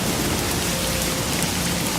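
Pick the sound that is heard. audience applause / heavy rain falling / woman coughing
heavy rain falling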